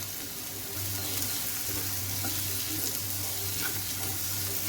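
Garlic is added to capsicum frying in a pan for shakshuka, giving a soft, steady sizzle that continues quietly throughout with no talking.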